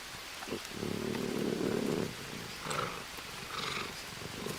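Low, rolling growl of a puma in the survival game Green Hell, a sustained rumbling snarl lasting about a second, followed by softer, broken growls and faint jungle ambience.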